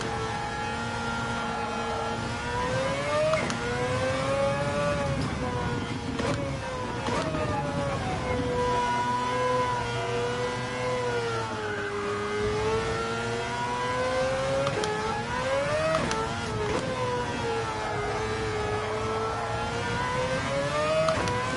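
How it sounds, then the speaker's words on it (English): A Mazda car engine in a PS5 racing game at Kyoto Driving Park, a loud continuous drone that rises and falls as it revs through the gears, with occasional shifts and a voice speaking briefly at points. "my ears are starting to get fatigued with the noise of this car"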